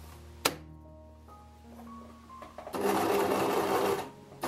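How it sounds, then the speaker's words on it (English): A sewing machine runs in a steady burst, stitching a backpack strap sewn from an old jacket, with a sharp click near the start and a louder, dense whirr through the middle before stopping. "So I'm stitching all the way around there, and then also I did a X in the center."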